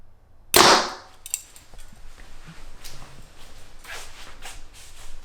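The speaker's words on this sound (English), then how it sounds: "Shoot it again, and I don't know, maybe we'll shoot a group or two outside." A single sharp gunshot from a rifle fired at a target range cracks out close and loud near the start, then fades into quiet outdoor ambience with faint small knocks.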